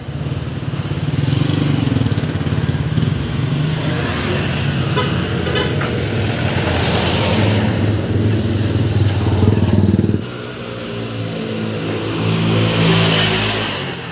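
Honda Click 125 scooter engine accelerating hard, a loud steady drone that rises in pitch as it gains speed, with a brief drop and another climb near the end. Other traffic passes on the road around it.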